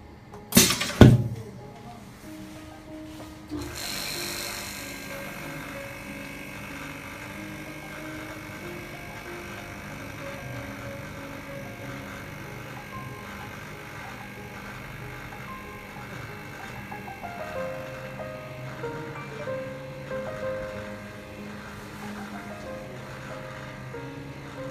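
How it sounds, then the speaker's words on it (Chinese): An edge screen laminator starts with a sharp mechanical clunk, then its vacuum pump hums steadily as it draws the air out of the chamber, a continuous even drone that lasts for the rest of the stretch. "当我们在按启动之后，贴合机的第一个 步骤就是先把这个腔体里面的空气把它抽干净"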